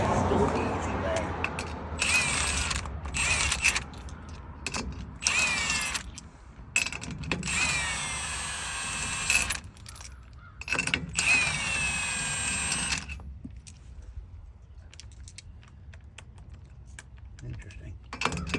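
Socket wrench taking lug nuts off a car wheel, heard as repeated loud mechanical bursts of spinning and ratcheting separated by short pauses, close by with no talking.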